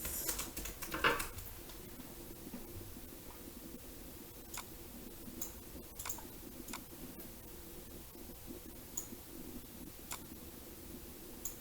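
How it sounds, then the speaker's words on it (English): Fingers type on a computer keyboard in a steady run of soft, close clicks and taps, with a brief busier burst near the start and no voice. "I'll type in Christmas journal cards."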